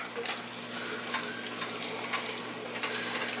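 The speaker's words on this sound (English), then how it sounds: "I'm going to put in just a little bit more water" Tap water runs steadily into a cooking pot while a meal is prepared in a home kitchen, a continuous close hiss and splash with no pauses and no talk.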